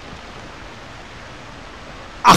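Rushing water from a waterfall in the King Kong video game, a steady broadband roar that holds evenly before a sudden loud burst cuts in at the very end.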